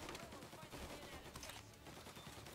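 A Tommy gun firing in Mafia Definitive Edition, a dense, unbroken burst of rapid automatic gunfire that sounds quiet and somewhat distant, filling the whole moment without pause.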